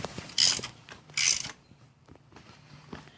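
A ratchet on a deep socket clicks in two quick bursts of rapid pawl ratcheting, working a spark plug loose on a 2003 Volkswagen Jetta engine, close and loud, followed by softer scattered taps and handling noises.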